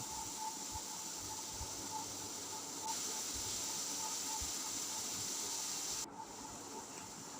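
Bitter gourd pieces frying in hot oil give a steady, faint hiss of sizzling that rises slightly partway through and drops off sharply near the end, with occasional soft knocks underneath.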